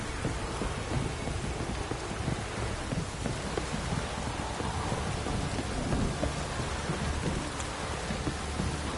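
Steady, dense rain with distant rumbling thunder in the video game The Witcher 3: Wild Hunt, a continuous full downpour pattering on surfaces with no voices.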